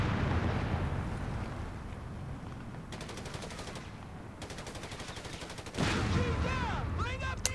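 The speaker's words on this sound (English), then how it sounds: "so he's having a gunfight with two houses" Gunfire in a Company of Heroes 3 gunfight: dense bursts of rapid automatic fire crackle over a low rumble of battle, with a louder blast and whistling shells near the end.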